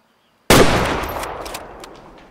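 A single loud rifle shot rings out at a wood bison in the Way of the Hunter video game, a sharp crack that trails off into a long, fading echo, with nothing else around it.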